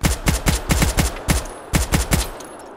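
Rapid bursts of machine gun fire in a military video game battle, loud and close, coming in short rhythmic volleys of several shots each with brief gaps between them.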